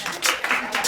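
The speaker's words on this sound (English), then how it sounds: "Let's clap for them." A small group claps for trainees in a BLS resuscitation training class, a brief, close burst of a few rhythmic hand claps.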